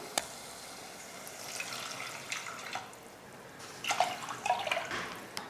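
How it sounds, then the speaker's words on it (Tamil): Water poured into a pan of masala for variety rice, a faint trickling and dripping with scattered splashy bursts near the end, no talking. "2 கிளாஸ் அளவுக்கு தண்ணி சேர்த்துக்க போகிறேன்"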